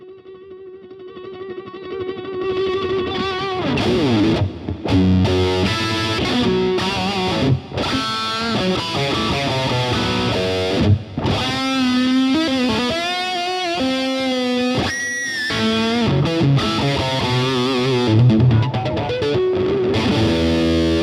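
Heavily distorted electric guitar plays chords and riffs through an amp, loud and gritty, continuous for about twenty seconds.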